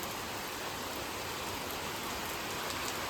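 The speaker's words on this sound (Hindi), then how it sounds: "सुबह 5-6 बजे से आई थिंक बारिश स्टार्ट हो रही है और सुबह से ही ऐसी है।" Steady rain pours down in a hill region, a dense unbroken hiss of drops on surfaces that holds at an even level throughout, with no voices.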